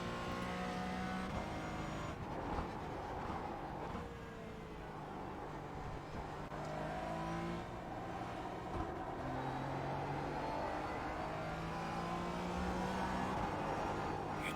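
Porsche 718 Cayman GT4 lapping the historic Silverstone layout in a race, its engine note rising and falling through gears while the rear end slides, a steady mid-level drone with shifting pitch and no talking.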